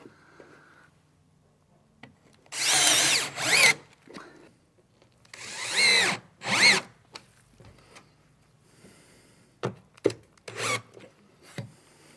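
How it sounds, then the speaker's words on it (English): A power drill drives a couple of screws into a panel while fitting a shower and toilet room in a campervan, heard as four or five loud, close bursts of whirring, separated by pauses. "I'm just going to sort of back it up with a couple of screws tapped in."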